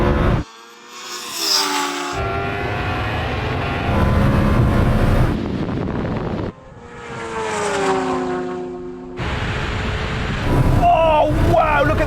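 A Lamborghini Huracan Turbo and a Kawasaki H2R motorcycle roar past in a drag race, loud engines screaming with rising and falling pitch as they sweep by in close succession, with breaks between passes.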